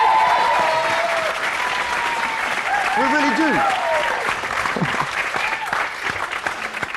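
A studio audience applauds with a steady wash of clapping from start to finish, heard under a presenter's speech.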